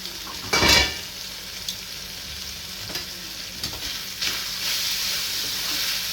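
Snake gourd bhaji coated in gram flour sizzles in a pan while being stirred, with a loud scrape and clatter near the start, then a steady close hiss of frying.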